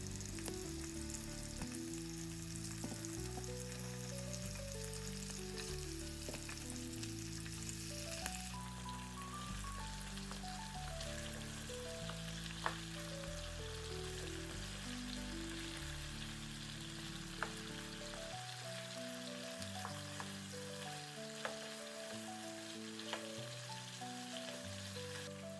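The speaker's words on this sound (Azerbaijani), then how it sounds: "Öncə tavaya əridilmiş kərə yağı əlavə edirəm və təmizlənmiş, doğranmış toyuq ətlərini tavanın içərisinə düzürəm" Chopped chicken pieces frying in melted butter in a pan, a steady soft sizzle that runs throughout beneath louder background music, with no talk.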